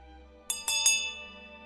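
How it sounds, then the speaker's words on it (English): Three quick, bright metallic strikes ring out in succession, like a small bell, leaving a sustained shimmering tone that slowly fades. "a bell rang sharply"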